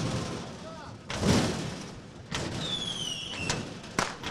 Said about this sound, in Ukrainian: молодь зносить металевий паркан